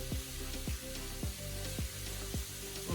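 Shrimp sizzle in a pan while tongs turn them, a quiet steady crackle broken by regular soft metallic knocks and scrapes.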